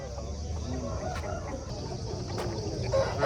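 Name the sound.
Aseel rooster clucking at a market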